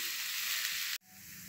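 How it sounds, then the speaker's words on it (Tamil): Rice stir-frying in a pan for fried rice gives a bright, even sizzle close by for about a second, then cuts abruptly to a much quieter, softer frying hiss. "இப்போ பாருங்கள் ரைஸையும் நல்லா பேனில் போட்டு ஃப்ரை பண்ணிட்டேன்"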